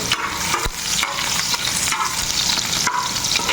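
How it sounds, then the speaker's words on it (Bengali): Chopped garlic frying in a pan, a steady close hiss of sizzling oil with stirring scrapes and a few sharp clatters throughout. "রসুন কুচিগুলো দিয়ে দেবো রসুন কুচিটা হতে একটু সময় লাগে"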